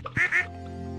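A duck in the Stardew Valley farming game lets out two quick, bright quacks in close succession, loud and near, followed by quiet background music.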